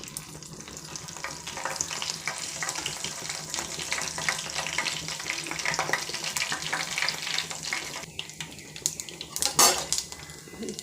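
Mustard seeds, urad dal and curry leaves spluttering in hot oil for stuffed brinjal fry, a close crackling sizzle with scattered pops and clinks of a metal spoon against the pan, a louder clatter near the end.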